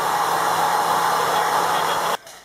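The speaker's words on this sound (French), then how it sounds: "pour accélérer le processus du séchage, on va sécher avec le sèche-cheveux" A hair dryer blowing steadily close by to dry varnish on painted polystyrene, a constant loud airy whoosh that cuts off abruptly near the end.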